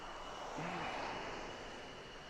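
Jet aircraft taxiing at Lakenheath airbase, a steady broadband engine roar with a constant high whine, heard from a moderate distance and holding level throughout.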